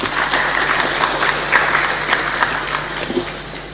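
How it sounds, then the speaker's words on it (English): An audience at an evening lecture panel applauds steadily, a dense sustained wash of many hands clapping, fairly loud and continuous with no speech over it. "I'd like you to just give a round of applause for Mr."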